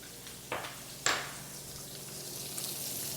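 Onion and garlic sautéing with pork in a pan, a steady soft sizzle with two sharp utensil clinks near the start.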